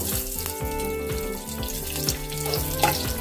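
Fenugreek seeds and curry leaves frying in hot oil in a pan for a South Indian Brahmin-style saaru, a steady close crackle and sizzle with faint spatter, no talking.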